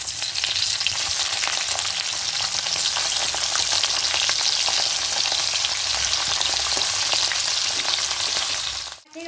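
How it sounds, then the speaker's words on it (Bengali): Pabda fish fry in very hot mustard oil with a loud, continuous, crackling sizzle that stays steady for several seconds, close to the pan, then dips abruptly at the end; no one speaks. "কড়াই আগে থেকে সরষের তেল দিয়েছি তেলটা খুব ভালো করে গরম হয়ে গেছে এবার একে একে মাছগুলো দিয়ে দেবো"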